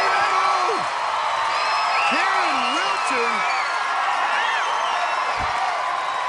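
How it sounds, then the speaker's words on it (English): A fired-up crowd at an American Ninja Warrior course cheers and whoops steadily throughout, with a commentator talking over the roar. "And this crowd is fired up with what they're seeing."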